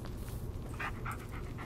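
A dog pants quickly and steadily at close range, with short breathy bursts over a low background rumble and no talking.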